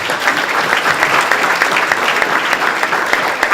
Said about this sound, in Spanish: el aplauso para la doctora